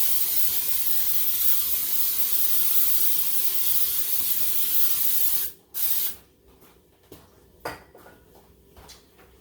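An aerosol can sprays chicken drumsticks before grilling, starting with a long continuous hiss and then breaking into a few short bursts, followed by light clinks and rubbing.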